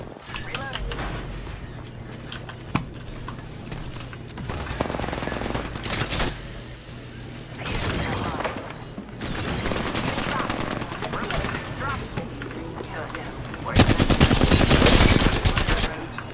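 Video game firefight with rapid machine-gun bursts and scattered gunshots, loud and close, with a heavy sustained barrage near the end, and players talking over the shooting.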